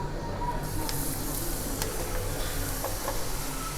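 Ribbon pakoda dough pressed into hot oil, sizzling steadily with a bright frying hiss and a few faint crackles, close and continuous with no talk.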